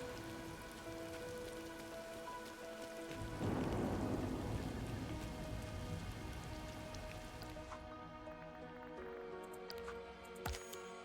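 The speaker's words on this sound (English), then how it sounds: "This rain actually feels nice." Steady rainfall in the video game Disney Dreamlight Valley, a dense hiss of drops on surfaces with a low rumble building midway and a sharp thud near the end, alongside soft game music tones, no talk.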